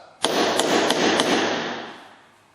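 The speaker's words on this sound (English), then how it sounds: "I need to set that with my nail set and a regular hammer" A regular steel hammer taps a nail set four quick times to sink a nail into MDF trim, sharp close metallic strikes in an even rhythm, each ringing briefly before the sound decays.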